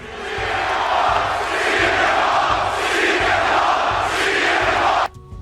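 Thousands of wrestling fans in a packed arena chant CM Punk's name in a loud, steady, rhythmic three-syllable roar that fills the space, cutting off abruptly near the end.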